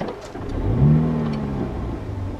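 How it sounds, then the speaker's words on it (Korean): A MINI John Cooper Works Countryman ALL4 engine cranks and fires with a quick rev, then settles into a low, rumbling exhaust burble from the muffler at close range. "지금 붕 하면서 켜지고 뒤에 이제 머플러에서 거글거글 하는 소리가 약간 나면서"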